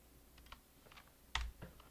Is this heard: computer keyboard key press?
yes